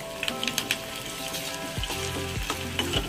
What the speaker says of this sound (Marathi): लसूण पेस्ट घालून घेऊया आणि व्यवस्थित मिक्स करून घेऊया।